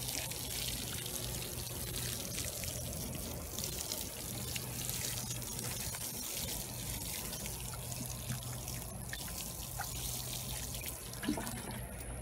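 Water pours steadily onto vegetable garden plants such as corn and zucchini, a continuous close splashing trickle that runs evenly without pause.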